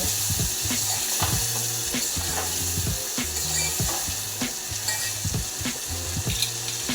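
Tomato and masala sizzling in a pan while being stirred, a steady loud frying hiss broken by repeated scraping and clacking strokes from the spoon.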